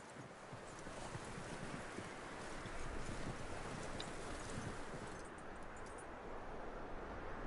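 Faint hooves clip-clop from a horse in a Western-themed video game, a soft, steady rhythm under a wind-like hiss.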